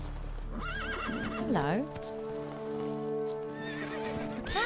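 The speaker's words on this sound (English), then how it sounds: "These horses are all upset." Agitated horses whinny and neigh loudly in The Witcher, with clip-clopping hooves and a brief spoken greeting over the game sounds, then steady ambient tones.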